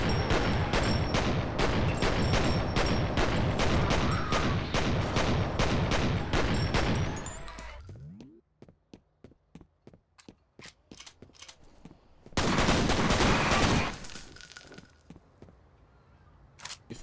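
Rapid, rattling automatic gunfire in a video game, a long, loud, evenly spaced burst followed by scattered single shots, then another dense burst that fades out, with no speech.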